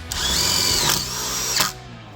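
Cordless drill driving a screw into a cedar post, one close, steady high whirring run of about a second and a half that bogs down briefly near the end before stopping.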